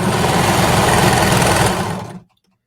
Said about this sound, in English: I'm actually going to close one end now and then sew all the way down